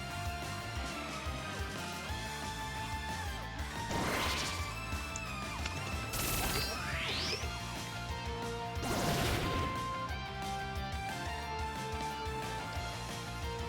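Bullet Punch strike in a competitive Pokémon video game battle, a few loud crashing smash impacts with whooshing sweeps landing over steady game music, no voices.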